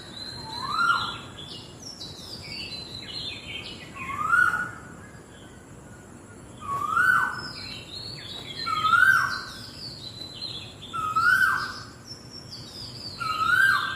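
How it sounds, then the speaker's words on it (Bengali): Birds call at dawn around half past four, a cuckoo among them. A clear whistled call repeats every couple of seconds over fainter chirps and twitters, with a soft insect hum underneath and no talking. "পাখিগুলো কিচকিচ করছে"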